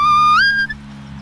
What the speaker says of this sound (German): mit der Pfeife kann ich immer sehr emotionsfreie Signale geben.